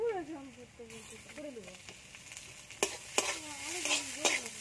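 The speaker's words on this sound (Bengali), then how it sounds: "আর একটু ভালো করে ভেজে নেব" Radish greens fry in a pan with a little oil, a soft sizzle with stirring scrapes and occasional sharp knocks of the spatula, while someone talks over the first half.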